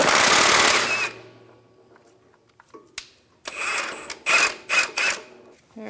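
An impact gun with a 19 mm socket working the crankshaft pulley bolt on a 2002–2006 Honda CR-V 2.4L four-cylinder, a loud opening burst followed by several short, sharp hammering bursts close by.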